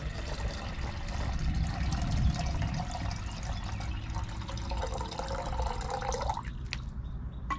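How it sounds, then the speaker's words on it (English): Steady stream of water pouring and gurgling into a metal pot nearby, the pitch rising as it fills before the flow cuts off near the end. "I'm going to fill up the pot."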